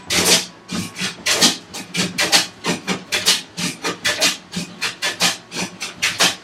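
Hand plane skipping as it flattens a wooden workbench top, a quick series of rasping, chattering strokes in a fairly even rhythm, close and distinct, with no talk over it.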